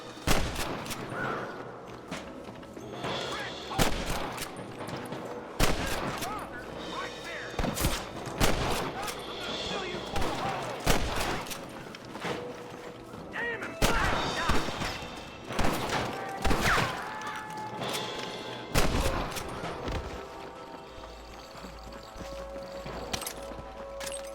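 Gunfire in a shootout from Red Dead Redemption, with repeated loud sharp shots spread through the clip, some in quick bursts, alongside horse hoofbeats and voices speaking over the action.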